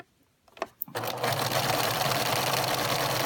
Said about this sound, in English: so that I can catch everything when I'm sewing